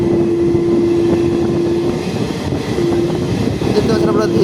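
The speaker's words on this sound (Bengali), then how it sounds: "দেখতে পাচ্ছেন আপনারা এটা হচ্ছে লোকাল ট্রেন, বেরিয়ে গেল" A Ranaghat–Sealdah local train rumbles past on the Sealdah–Lalgola line, heard from aboard another train as a steady loud roar with a tonal hum and some rattling throughout.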